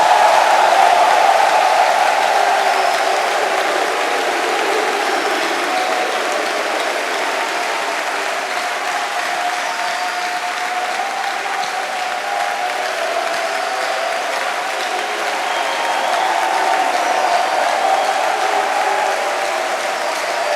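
A crowd claps and cheers steadily in acclamation of Jesus Christ at a church gathering, a dense, continuous roar of applause filling the whole stretch at an even, loud level.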